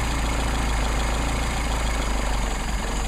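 A Mercedes 190SL engine with Solex carburetors idles low and steady, a loud close rumble with a slightly uneven, throbbing pulse.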